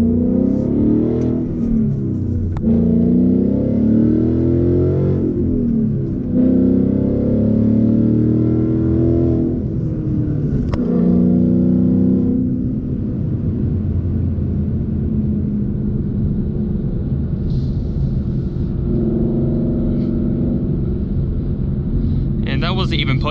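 A 2018 Mustang GT with a Corsa active exhaust accelerates hard, its engine note rising in pitch through gear pulls with brief shift dips, loud and close from inside the cabin under steady road rumble.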